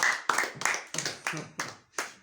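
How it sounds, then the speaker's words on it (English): A small group of students claps for a classmate, seven distinct, fairly close claps in an uneven rhythm over about two seconds, with no talk between them. "Can we give her a round of applause?"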